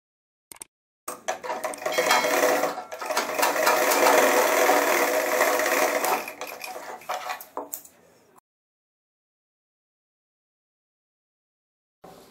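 A sewing machine runs in one fast, steady burst of stitching for several seconds while sewing the back pocket of a pair of trousers, then stops abruptly, leaving silence broken by a few brief clicks.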